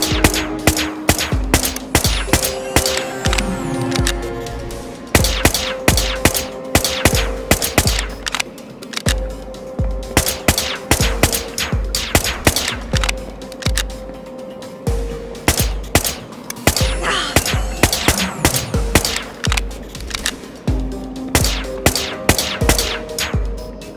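Rapid gunfire sounds in the Whispers of a Machine video game, a dense series of sharp shots cracking in bursts throughout, with game music tones underneath.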